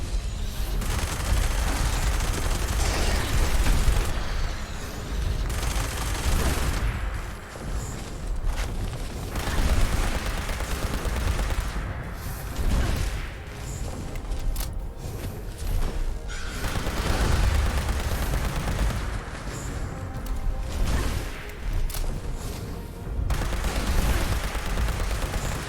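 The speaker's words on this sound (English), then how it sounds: "The rocket launcher." Rocket launcher fire in the video game Fallout 76: loud, dense volleys of booming blasts and explosions in rapid succession, continuous and heavy throughout with no talk.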